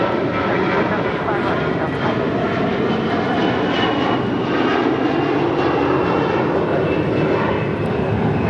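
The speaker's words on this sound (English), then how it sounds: "This is American Airlines 1315 taking off to Atlanta, Georgia on an A321." An American Airlines A321 jet takes off from LAX bound for Atlanta, its engines a loud, steady broadband roar that holds level throughout, close by and uninterrupted.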